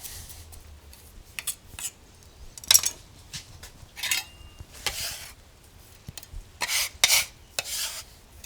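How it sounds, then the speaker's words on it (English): A knife rough-chops curry paste ingredients on a board, giving a series of irregular crisp cutting strokes with short gaps, some quick bursts grouped together, close and fairly loud, with no talking. "Nothing fancy here, just rough chop it up."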